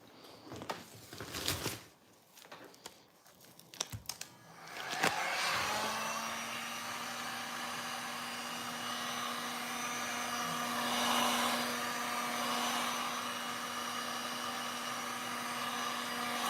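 Heat gun blowing a steady stream of hot air for paint crafting, a continuous whirring hum that starts after a few brief knocks and stays loud and even to the end.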